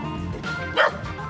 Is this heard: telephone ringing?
no